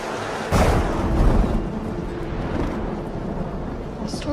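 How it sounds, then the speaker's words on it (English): A heavy thunderclap cracks sharply and then rolls on as a deep rumble during a worsening storm in an Old West setting, loud and close, with steady rain-like hiss beneath. "The storm's getting worse."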